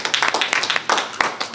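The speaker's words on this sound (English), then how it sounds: "Let's give this brother a round of" An audience at a Black men's community meetup on branding breaks into a short burst of clapping, a dense patter of claps rising and falling over about a second and a half with no talk.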